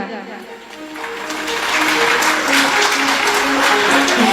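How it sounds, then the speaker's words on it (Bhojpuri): An audience at a Bhojpuri stage show in Patna breaks into loud, sustained clapping. It swells steadily into a dense roar of applause, with a voice and music faintly underneath. "एक बार जोरदार ताली बाबू के लिए कर दीजिए।"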